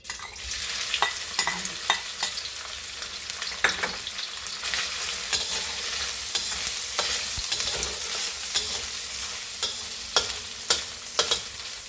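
Roasted pork being reheated in a frying pan gives a steady sizzle throughout, with sharp scrapes and clacks from stirring at irregular intervals. No voices.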